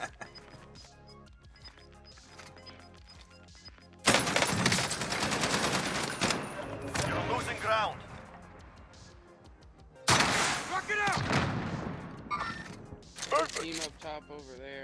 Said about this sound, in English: they're shooting at Gray